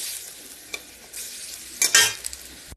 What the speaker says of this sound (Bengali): বড়াগুলো এখন একে একে উল্টে পাল্টে ভেজে নেব